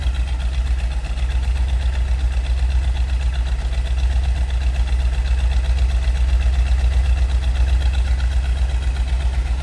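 A 1970 Dodge Challenger 440 R/T V8 idles close by with a deep, steady, loping rumble that holds even throughout, with no talking over it.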